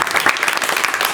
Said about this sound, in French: On peut s'applaudir, s'applaudir.